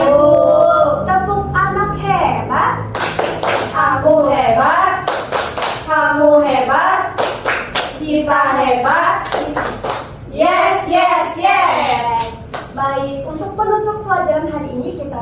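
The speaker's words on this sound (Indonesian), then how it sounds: "Sekali lagi kita tepuk anak hebat" Children in a classroom perform the 'tepuk anak hebat' chant, rhythmic bursts of clapping in set patterns mixed with loud sung and spoken kid voices, close and continuous.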